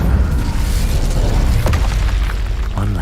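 Confringo and Incendio spell blasts in Hogwarts Legacy, loud continuous booming explosions and fiery bursts layered together in a dense, rumbling combat roar with no talk.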